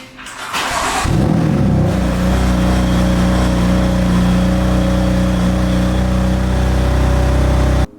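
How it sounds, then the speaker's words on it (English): A BMW F80 M3 engine cranks and fires after a charge cooler install, then settles into a loud, steady idle rumble close by with no talking. "we need to now start the car just to make sure that everything is working properly"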